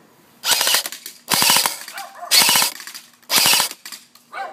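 A Classic Army Bushmaster Predator M-16 airsoft gun with an 8.4 battery fires four sharp, rapid bursts of shots in quick succession, loud and close, with short quiet gaps between.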